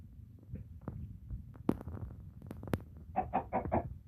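A quick run of four soft clucks from a Minecraft chicken follows scattered clicks and thumps, all fairly quiet.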